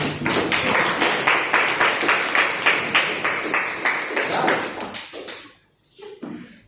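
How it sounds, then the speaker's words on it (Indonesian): A classroom group claps hands together in a steady, loud round of applause that fades out after about five seconds, leaving a few scattered claps. "Tepuk tangan untuk semuanya."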